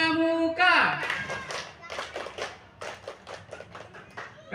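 After a short vocal call, a group of children performs a scout rhythmic clap in quick, patterned bursts during outdoor cheer practice; voices chant along with the claps.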